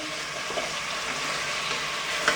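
A pork bone seasoned with salt and pepper browns in a pot with a steady, even frying sizzle and a faint crackle, close and continuous, with no speech.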